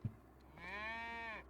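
A single drawn-out cow moo from the cattle herd in the farming game Riverbend Springs, a steady, clear, fairly close lowing call lasting about a second after a soft thump, with no talking.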